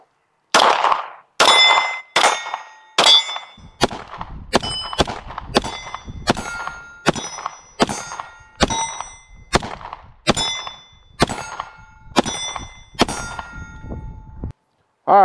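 About fourteen shots of Winchester white box ammunition are fired at steel targets at a steady pace, each impact leaving a bright, ringing metallic clang that decays before the next.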